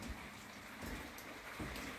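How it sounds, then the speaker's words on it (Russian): Steady rain falls on an outdoor terrace, a soft continuous wash of patter with a few slightly louder drips, heard alone at low level. "Идет дождь."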